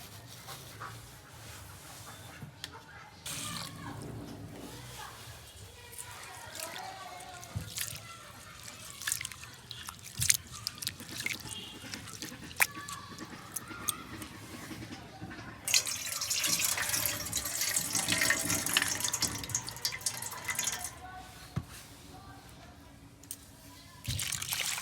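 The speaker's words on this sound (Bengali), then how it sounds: "সাগু ধোয়া হয়ে গেছে" Sago pearls are rinsed in a sink under a running tap, steady splashing water and dripping with occasional clinks of a bowl, growing louder and fuller toward the end; a dog is faintly audible.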